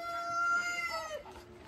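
Backyard chickens kept by a freshly cut tree give a drawn-out, crowing-like call that wavers and breaks into short clucks, fairly close and heard alone.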